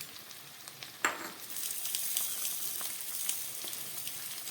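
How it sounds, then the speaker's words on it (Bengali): Four or five green chillies lightly frying in hot oil for soyabean kosha, a soft continuous sizzle with crackling pops and a sharper spit near the start, close and fairly quiet. "আমি 4-5টা কাঁচা লঙ্কা একটু হালকা করে ভেজে নিচ্ছি।"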